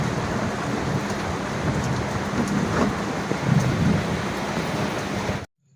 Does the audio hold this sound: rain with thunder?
yes